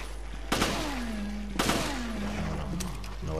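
Gunfire in the video game Resident Evil Revelations: two loud bursts of shots, each trailing into a ringing decay, followed by a few lighter scattered cracks.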